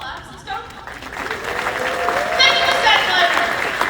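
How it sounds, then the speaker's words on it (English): An audience at a fan expo clapping, with crowd applause building gradually under a loud host voice speaking over it. "Let's just start clapping, just normal claps."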